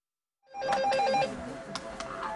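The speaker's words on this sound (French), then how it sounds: "depuis 2 semaines, le téléphone n'arrête pas de sonner" Telephone ringing at a radioactivity research and information association office in Valence, France: a trilling electronic ring begins after a short silence and repeats fairly close and clear.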